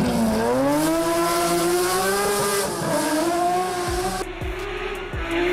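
A high-revving BMW E46 M3 engine screams close by at up to 9000 RPM, pitch climbing and holding, then drops away into a few short bursts as the car passes.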